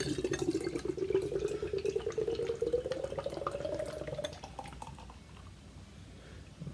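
Nitro beer from a can, Nara Brewing Lighthouse, is poured hard into a glass, making a close, fizzing, gurgling rush of liquid whose pitch rises as the glass fills before it tapers off.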